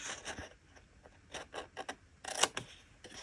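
A blade or scoring tool cuts fold lines into paper packaging for a square chocolate bar, making quiet, close, irregular rasping strokes in short bursts.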